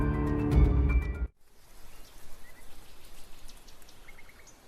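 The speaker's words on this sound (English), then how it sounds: "A dreary downpour starts off the Monday." Steady rain downpour from the video game The Letter, a soft, even hiss of falling drops that begins abruptly after a brief burst of louder tonal sound and continues alone at moderate volume.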